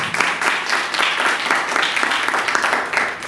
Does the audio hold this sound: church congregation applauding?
yes